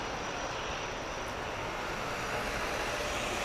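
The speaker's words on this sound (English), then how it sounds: "This is a Convair CV 5800." A Convair CV 5800 on IFL Group Flight 908 at Grand Cayman's airport gives a steady, fairly distant broadband engine roar that holds evenly throughout with no talk.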